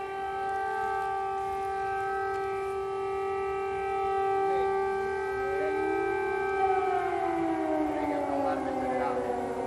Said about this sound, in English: That's an air raid siren. Several of them going off here in the center of the Ukrainian capital.